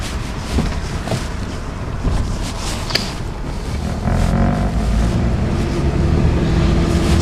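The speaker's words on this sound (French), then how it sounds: "Ce qui est immédiat, c'est le côté feutré de l'échappement." A Morgan's 3.7-litre Jaguar V6 engine runs with a steady, muffled exhaust rumble that grows louder and deeper after a few seconds, with wind noise throughout.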